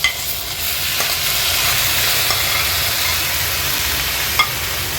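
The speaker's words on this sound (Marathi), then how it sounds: "आता ह्यात आपण ह्या स्वच्छ धुतलेल्या कोलब्या ऍड करूया" Cleaned creek prawns dropped into masala paste cooking in hot oil for an Agri Koli-style curry, sending up a loud, steady close sizzle with a few small pops and no talking.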